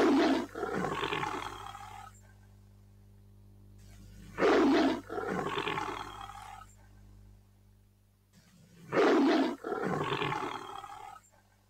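A tiger, the largest wild cat, gives three loud, deep roars in slow succession, each a long rough bellow followed by a quieter rumbling tail, with brief silent gaps between them.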